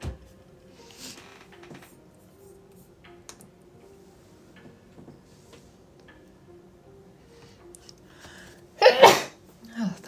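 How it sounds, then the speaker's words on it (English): A single sharp, close sneeze bursts out near the end of a quiet stretch of soft desk handling and faint ticking during a live bullet journal packing session. "I feel like that sneeze has been on the brink like the whole time I've been on live."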